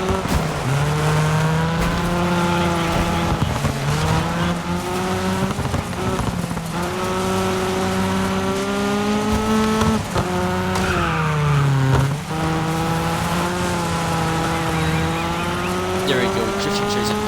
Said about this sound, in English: slow down a little bit just so we can drift and trade some paint with some